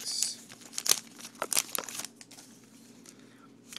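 Foil wrapper of a 2012 Topps Gypsy Queen baseball card pack being crinkled and torn open up close, a few sharp crackling bursts and then quieter rustling, no talking.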